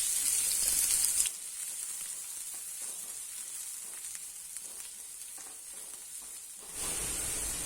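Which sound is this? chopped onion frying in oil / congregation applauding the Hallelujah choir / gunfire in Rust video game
chopped onion frying in oil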